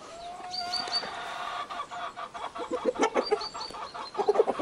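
Farmyard chickens and a rooster cluck busily, with steady overlapping clucks that grow more rapid and louder toward the end, close by and with no talking.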